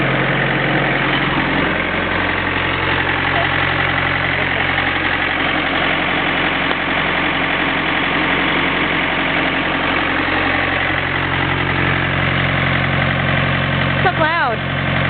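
A John Deere 110 TLB loader backhoe's diesel engine runs steadily with a low throbbing idle close by, throttle held up, with a voice speaking over it and a brief clatter near the end.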